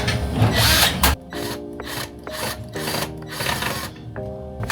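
A power screwdriver whirs in several short bursts, each burst driving a screw into a wooden box with a rising mechanical whine, close and loud, separated by brief pauses.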